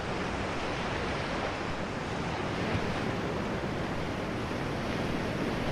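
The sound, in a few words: 3D audio deep ocean waves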